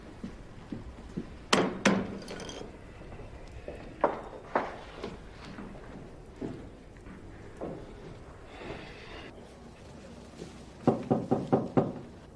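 Knocking on a door, a quick pair of sharp raps early on, a few scattered single knocks, then a firmer burst of four or five rapid knocks near the end, close and fairly loud in a quiet room.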